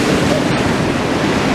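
Sea waves breaking on the shore at Blackpool make a steady, close broadband wash of surf with no voices.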